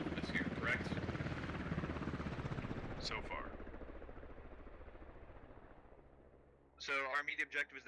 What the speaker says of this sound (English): He can shoot at the helicopter.